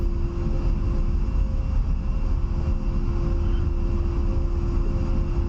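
An A-10A jet in the DCS flight simulator slows on the runway, a steady continuous engine whine and rumble with a constant tone, alone and without talk.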